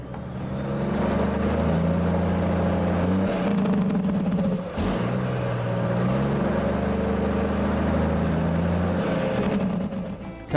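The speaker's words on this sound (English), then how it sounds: "Tony, I want to check the Jacobs brake on the truck." A truck's diesel engine runs loud and close during a highway inspection as its Jacobs engine brake is checked, a steady heavy drone that dips briefly midway, then resumes without speech.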